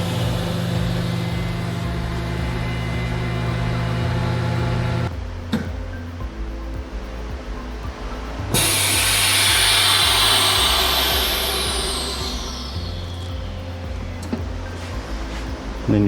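A TC-350FLR tabletop vacuum chamber sealer runs a steady, loud motor hum as it pumps down a packaging bag, with a sharp change partway through as the pump cuts and air rushes back in, then the hum resumes.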